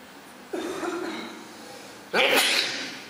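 A single sneeze during a stage rehearsal for a theatre production, fairly close and loud, followed by a short burst of voice.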